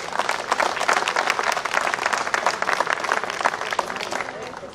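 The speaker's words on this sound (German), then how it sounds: "Applaus" An audience at a commemorative gathering of Pontic Greek associations in Stuttgart breaks into sustained applause after a speech, a thick, even roar of many clapping hands.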